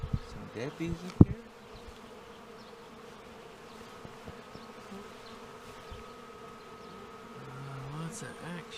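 Steady buzzing of many bees fills the scene at close range, with a brief sharp knock early on and faint voices in the background.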